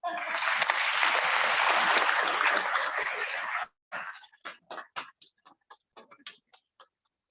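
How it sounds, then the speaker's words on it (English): A lecture audience claps in a dense, sustained burst that stops abruptly, followed by a scattering of sparse, separate claps trailing off unevenly. "Let us first clap for those people that are going to sleep through this lecture"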